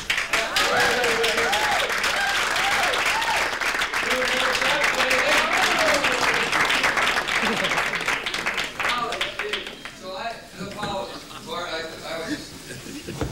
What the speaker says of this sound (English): You're gonna applaud now.